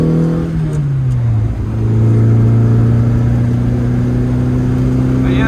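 Lotus Elan restomod's engine rising in pitch as it accelerates along an open road, a steady, loud in-cabin drone that climbs after a brief dip.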